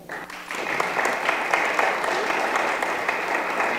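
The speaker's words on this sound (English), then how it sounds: "please join me in a huge round of applause for our panel" An audience applauds a panel at an engaged-spirituality Mother's Day gathering, a steady wash of many hands clapping that swells after a brief start and holds at an even level throughout.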